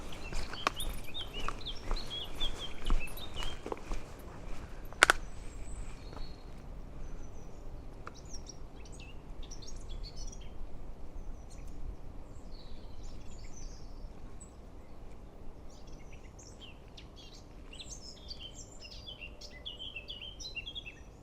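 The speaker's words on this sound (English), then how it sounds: "Hopefully you can hear the bird song. It's pretty amazing, very different from Australian bird song, all very sweet and tuneful." Spring birdsong near Bath, England: scattered sweet, tuneful chirps and short phrases from several birds at moderate distance over a steady outdoor hush, with a few soft footstep-like taps early on.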